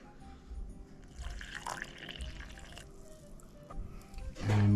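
Water trickles and pours into a bowl of pizza dough mixture, with close, uneven splashing and dripping that ends in a louder thump.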